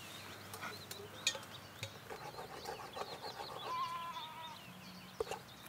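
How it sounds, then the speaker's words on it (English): Sheep bleat in a rural UK camping spot, a few calls rising out of steady outdoor ambience with some birdsong, moderately distant and not loud. "Can you hear the sheep?"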